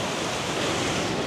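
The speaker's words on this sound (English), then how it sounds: "Water everywhere. That was a big wave." A big ocean wave breaks close by in a dense, steady roar of surf and spray with wind noise over the microphone, filling the whole short moment without pause.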